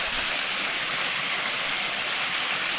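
Water pours over a hollowed-out rock into a pool on a short park hiking trail, a loud, steady, close rushing roar that fills the whole stretch with no talking.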